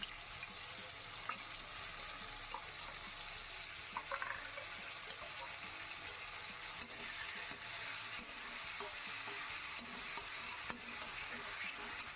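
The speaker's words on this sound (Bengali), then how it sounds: "চিংড়ি মাছগুলো আমি ভেজে নিচ্ছি" Prawns frying in a pan for a bottle gourd and prawn curry, giving a steady, continuous sizzle with faint stirring clicks throughout, moderately quiet and unbroken by voices.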